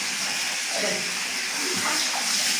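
Water poured from a pot over a child during a bath: a continuous, close, splashing gush that swells and eases without a break.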